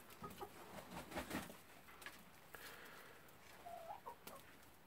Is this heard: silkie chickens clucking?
yes